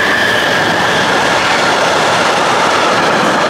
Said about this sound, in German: Ein nerviger Zug ist durchgefahren.